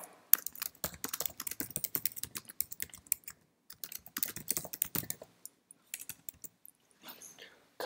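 Typing on a computer keyboard into a Word document, with quick irregular bursts of close, crisp key clicks and short pauses between them, and a few faint clicks near the end.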